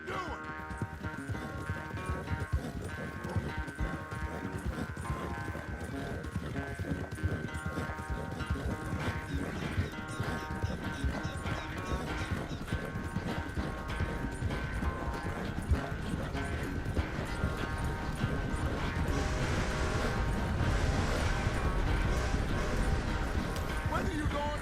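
Horse hooves clip-clop at a steady gallop through a Red Dead Redemption 2 race, running continuously under game music and voices.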